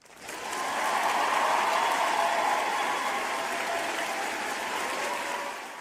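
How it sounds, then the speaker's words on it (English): Steady applause and crowd noise rise quickly and hold for several seconds before tapering, with no voices over it, in the middle of a livestream. "So round of applause for everybody in the chat right now."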